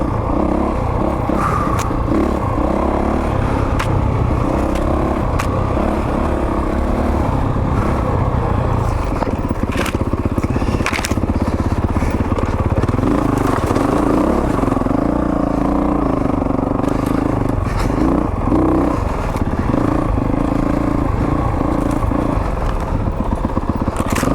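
A Honda motorcycle is ridden off-road among trees. The engine roars steadily and loudly throughout, with shifting revs and rattling, clattering knocks from the rough ground.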